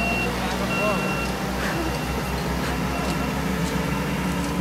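Tour bus pulling out of a lot in Hershey, Pennsylvania, its diesel engine rumbling steadily nearby while reversing beeps sound, with people talking close by.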